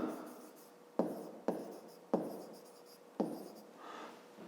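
Pen writing on paper during a fifth-grade maths exercise, a series of short close scratching strokes with sharp starts roughly once a second, quiet and soft.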